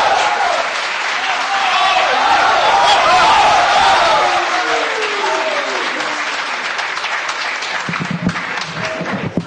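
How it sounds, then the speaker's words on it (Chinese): An audience at a crosstalk comedy show bursts into loud, sustained applause that swells and then slowly fades, with a voice starting to speak over the last claps. "大伙儿一鼓掌啊"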